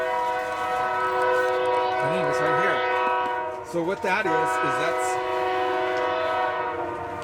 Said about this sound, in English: excuse the horns.